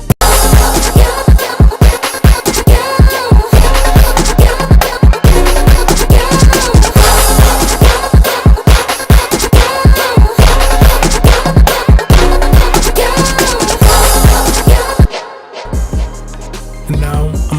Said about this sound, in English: So I added the drums to the Jersey Club structure that I added, and now it sounds like this.